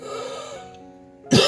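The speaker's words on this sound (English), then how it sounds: "Sorry for the coughing" A single short cough bursts out at the end after a stretch of quiet humming tones.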